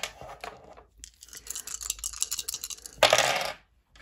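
Several dice tumble and clatter across a hard surface in a quick run of small clicks, ending in a louder rattling burst as they settle; the sound is close and fairly quiet.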